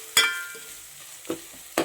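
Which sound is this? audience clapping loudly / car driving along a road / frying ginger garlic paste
frying ginger garlic paste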